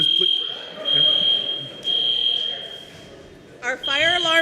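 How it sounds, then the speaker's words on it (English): A church fire alarm sounds during a fire drill in the sanctuary, a steady electronic tone holding across the clip, with voices and room noise beneath it and a warbling tone rising near the end. "Our fire alarm has been activated."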